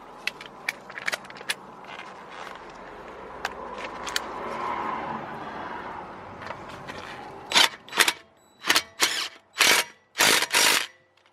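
Wrench or ratchet working the wheel bolts on an alloy car wheel, with sharp metallic clicks and taps scattered early, then a run of louder, bursty ratcheting or rattling strokes near the end, close and clear with no talking.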